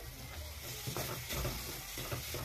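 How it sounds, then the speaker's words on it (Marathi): Onion, tomato and garlic paste with peas being sautéed and stirred in a pan, a steady close sizzle broken by repeated scraping stir strokes, with no speech. "बघू शकता छान असं परतून घ्यायचं आहे, छान मिक्स करून घ्यायचं आहे।"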